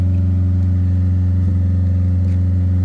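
An old Toyota Soluna engine, its 16 valves just cleaned with Blackcore tuning, runs close up with a steady, loud low hum and a slight rise in revs midway.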